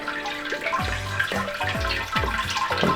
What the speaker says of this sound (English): pour the cold water over